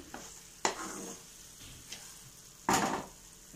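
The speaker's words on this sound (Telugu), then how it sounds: "కట్ చేసి ఉంచుకున్న డ్రై ఫ్రూట్స్ వేసాను అలాగే ఇలాచీ కూడా సో వాటిని బాగా మిక్స్ అయ్యేంత వరకు కలిపి" Dry fruits and cardamom stirred through a thick sweet mixture in a pan, with soft scraping and a faint sizzle, marked by a few sharp spoon strokes.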